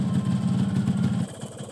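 A cold two-stroke motorcycle engine idles steadily nearby with a low, buzzing pulse that softens slightly toward the end.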